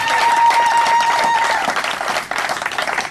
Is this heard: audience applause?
yes